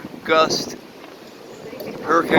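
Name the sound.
hurricane wind hitting a boat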